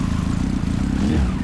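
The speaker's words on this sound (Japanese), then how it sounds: "エンジン音聞かせてもらえますか" A 2002 Honda CB1300 Super Four with a Moriwaki Zero exhaust idles close by, giving a deep, steady, burbling four-cylinder rumble that runs unbroken through the clip, with no talking.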